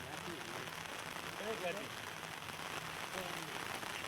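Heavy, continuous rain during monsoon flooding pours down as a steady, dense hiss with no break, while faint voices mingle underneath.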